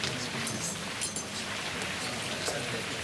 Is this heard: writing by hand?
no